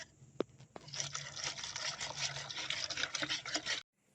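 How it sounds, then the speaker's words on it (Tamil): Cake batter of butter, flour and melted sugar syrup is stirred in a bowl, giving a soft, continuous wet squelching and slapping that is fairly quiet and close, with no talk. "நம்ம உருக வச்ச சர்க்கரை பாவை வந்து இப்போ சேர்த்து நல்லா மிக்ஸ் பண்ணிக்கலாம்"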